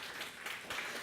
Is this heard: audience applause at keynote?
yes